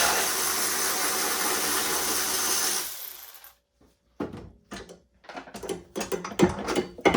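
Bolt on the strut top of a Toyota MR2 SW20 coilover being undone: a steady mechanical whir for about three seconds, then a pause and a run of sharp, close ratcheting clicks and knocks.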